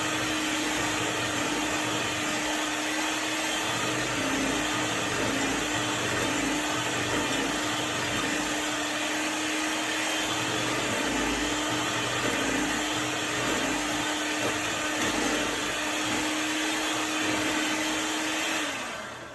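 An electric mixer churns cookie batter of flour and butter in a long, steady, loud motor whine that holds at an even pitch throughout, then cuts off at the end.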